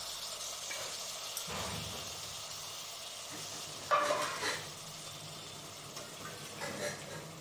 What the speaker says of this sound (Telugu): తరువాత మనం కడిగి పెట్టుకున్న మటన్ని దాంట్లో వేయాలి